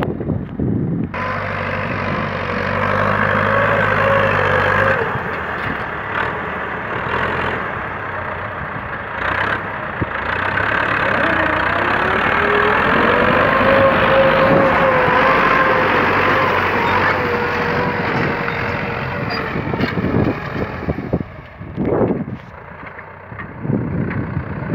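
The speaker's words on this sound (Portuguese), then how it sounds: "O trator passa por cima de tudo." A tractor engine drones continuously while plowing dry land in the sertão of Alagoas, a steady loud rumble with wind buffeting the microphone and no one speaking.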